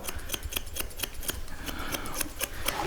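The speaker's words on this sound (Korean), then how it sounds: "이제 여기서 일단 숟가위로 들어갑니다" Thinning scissors trim a West Highland White Terrier's coat during grooming, producing rapid, evenly spaced metallic snips up close, with no talking.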